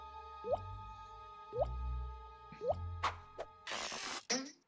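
Water drips in a Mickey Mouse cartoon, three evenly spaced, plopping drops landing close and clear over a low hum, followed by squishy splashes and a burst of noise.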